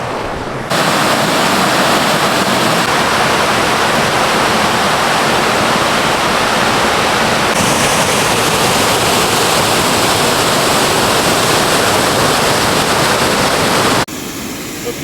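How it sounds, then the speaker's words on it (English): Loud, continuous rushing water fills the scene, a dense steady roar of Eagle Creek flowing in Oregon, with no pauses. "The Eagle Creek follows this creek for about 10 miles."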